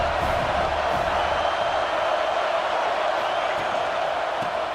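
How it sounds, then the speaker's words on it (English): A football stadium crowd cheers, a steady, dense wash of roaring noise with no distinct peaks, sustained and fairly loud throughout. "This crowd bringing the energy and noise early"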